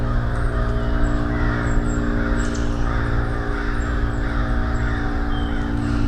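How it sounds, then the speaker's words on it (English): Crows caw repeatedly in the woods during a Bigfoot search, their calls standing out over steady, dense low rumble and hum, with no voices heard. "Maybe the crows were the Sasquatch early warning system"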